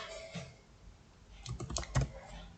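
Quiet typing on a computer keyboard while entering a formula in Excel, a few scattered key taps at first, then a quick cluster of clicks near the end, close and soft.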